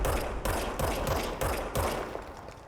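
Enemy gunfire in the game Control: several close, loud bursts of automatic fire, about five rapid volleys in quick succession, alone without talk.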